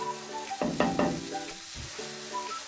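Dosa batter is spread across a hot griddle greased with sesame oil, a soft sizzle marked by a few scraping strokes of a ladle, with faint tonal background music running beneath.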